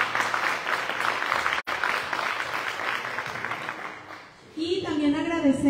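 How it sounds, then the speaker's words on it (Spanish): Steady audience applause at a ceremony for a Zacatecan clubs federation, continuous clapping that tapers off before a voice begins speaking near the end. "Le damos un fuerte aplauso también."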